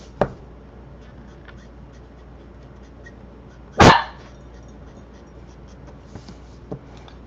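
A dog sounds off at neighbouring dogs with a few sharp, separate barks, one louder burst midway and fainter yips later, against a quiet indoor background.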